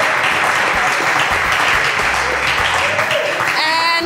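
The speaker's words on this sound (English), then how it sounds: "A round of applause thank for you." A round of applause breaks out for the cook and her kitchen team at a dinner, loud, dense clapping sustained throughout with voices mixed in beneath it.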